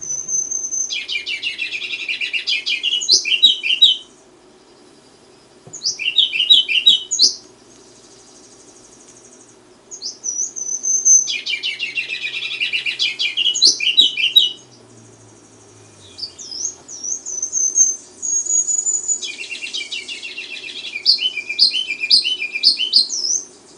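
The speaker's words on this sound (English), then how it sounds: "And then there's the ruby-crowned kinglet." Ruby-crowned kinglet song: several bright, high twittering phrases in bursts of a few seconds each, separated by short quiet gaps, clear and close over a faint low hum.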